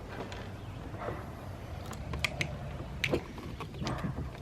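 Plastic clicks and ratcheting creaks as a Bixpy pedal drive adapter is twisted into a Vibe Shearwater 125 kayak until it locks, with a few sharp close snaps near the end.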